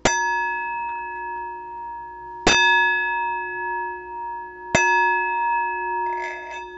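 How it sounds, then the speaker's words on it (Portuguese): A Tibetan Buddhist meditation bell is struck three times at even intervals, each strike ringing out clearly with a long, pure, sustained tone that slowly decays between hits. "nós temos também o sino, né, usado na meditação"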